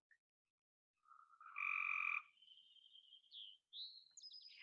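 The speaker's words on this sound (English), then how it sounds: "Frogs are loud tonight." Frogs croak at night, heard alone in quiet surroundings: a few separate calls, one a louder sustained trill in the middle, followed by higher chirping notes.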